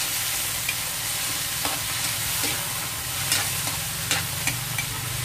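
Chopped tomato sizzles steadily in a hot pan as it is stir-fried for ginataang langka, with irregular scrapes and taps of a utensil stirring it close by.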